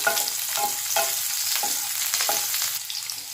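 Green chilies and garlic fry for chutney in a pan, a constant sizzle with rhythmic stirring scrapes recurring roughly every half second, close and clear with no talking.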